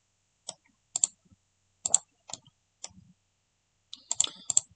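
Computer mouse clicks and keyboard key presses while modelling in Blender, a sparse run of sharp close clicks and taps, some single and some in quick clusters, separated by silence.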